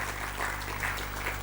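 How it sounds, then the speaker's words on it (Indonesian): A church congregation claps together during a sermon, a dense, even patter of applause lasting a moment, moderately loud with a low hum beneath. "Yang setuju tepuk tangan bagi Allah kita."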